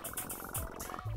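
A voice imitates a cat purring, a brief rolling, throaty rumble with pulsing tones, close and fairly soft.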